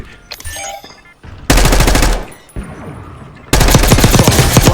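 Bursts of rapid automatic gunfire from a video game, loud and close, in two long volleys separated by quieter game noise.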